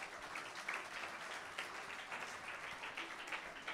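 A church congregation claps together steadily during Sunday worship in a dense, continuous wash of applause, heard fairly faintly as if from a distance.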